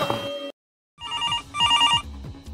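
A telephone rings in a domestic comedy scene, a brief trilling bell burst, a pause of silence, then two more loud electronic ring bursts close by, with no talk over them.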